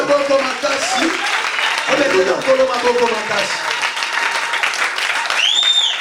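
A church congregation applauds together for several seconds, a steady wash of clapping close by with some voices and cheers mixed in, while a sung tone rises briefly near the end.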